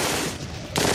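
German MG-42 machine gun firing a loud, continuous high-rate burst of 7.92 mm belt-fed rounds, dense and unbroken across the whole second with a harsher burst near the end.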